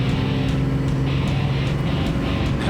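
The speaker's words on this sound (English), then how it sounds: "Do that turbo spool a little better, a little more whistle there." A 12-valve Cummins diesel truck runs hard on a dyno, a loud, steady engine drone with turbo whine and faint recurring whistle pulses layered on top.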